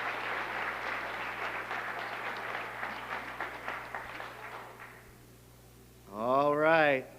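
At a school board meeting, an audience claps in a steady patter for staff being honored for years of service, fading out before a sustained warbling tone rises at the end.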